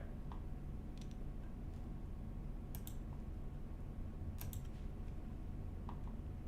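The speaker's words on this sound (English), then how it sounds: "Hopefully my keyboard is working this moment." Computer keyboard typing, a few sparse, faint clicks and key taps scattered over a steady background hiss, with no talk.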